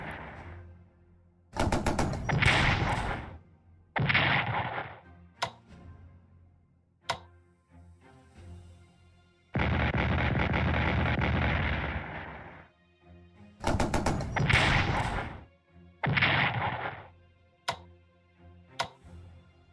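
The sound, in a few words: artillery fire in Strategic Command WW1 video game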